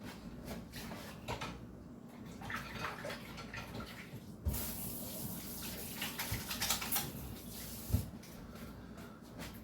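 Running tap water splashes steadily over hands being rinsed at an outdoor food pantry church barbecue, with occasional louder splashes and clunks. The sound carries on unbroken and no one speaks.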